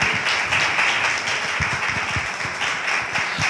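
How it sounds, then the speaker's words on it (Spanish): An audience at a festival event applauding together, a thick continuous wash of clapping with individual claps standing out near the front, steady and fairly loud. "Pido que comiencen los aplausos"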